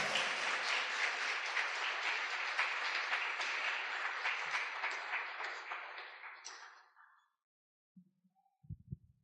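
Loud, sustained church congregation applause with dense clapping that fades out after about seven seconds, followed by a few faint knocks.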